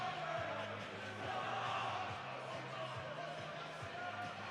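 A hockey crowd at a high school game, Creek versus Springboro, chants from the stands in a rhythmic, repeated pattern, steady and moderately distant within the rink's echo.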